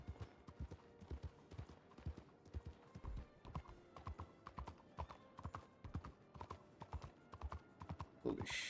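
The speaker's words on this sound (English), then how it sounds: "there's a lot of horses here." In a Red Dead roleplay video game, several horses move with a steady, rhythmic clip-clop of hooves throughout, with an occasional whinny, all at a moderate distance and fairly quiet.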